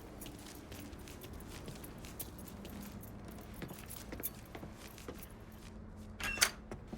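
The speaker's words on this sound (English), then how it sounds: "Hey, man, grab those keys." Keys jangle in the Mafia 3 video game, a brief metallic jingle near the end over a low, busy ambient background with soft footstep-like thuds.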